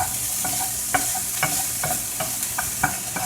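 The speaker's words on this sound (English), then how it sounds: "Remember to keep stirring. Don't let that shit stick to the pan." An omelette mixture is stirred in a pan, with a spoon scraping and knocking out a steady rhythm of roughly eight strokes over a continuous sizzle. The strokes are close and moderately loud, and no one talks.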